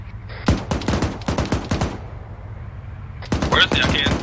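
Bursts of gunfire in a firefight, loud, close shots cracking in rapid clusters with a brief lull before another quick volley.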